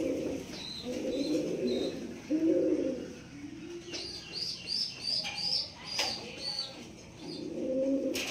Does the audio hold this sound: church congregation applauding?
no